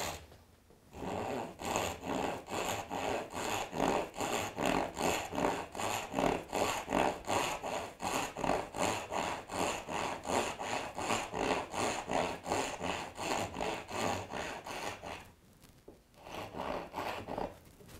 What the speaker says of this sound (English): my second cut is a rip cut, so I'm back to the dovetail saw